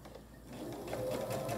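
A sewing machine stitching a quilt strip set with a scant quarter-inch seam, its steady mechanical whirr building and holding close by.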